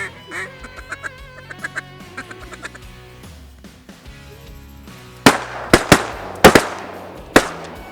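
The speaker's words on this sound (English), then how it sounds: "Right off the bat, 3 mallards come in" Mallard ducks arrive over a flooded hunting spot in Hackberry, Louisiana, on opening day; soft calls and background sounds give way to a run of loud, sharp, close shotgun-like bangs in quick succession.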